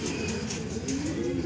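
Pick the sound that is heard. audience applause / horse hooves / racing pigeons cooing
racing pigeons cooing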